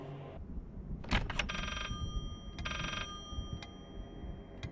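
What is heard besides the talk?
telephone ringing in the video game Layers of Fear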